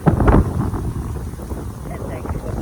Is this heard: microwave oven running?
no